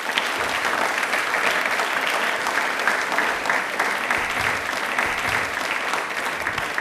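Steady, loud audience applause fills the hall at a rail-themed quiz programme, dense clapping sustained evenly throughout with no pauses or speech.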